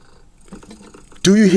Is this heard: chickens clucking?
no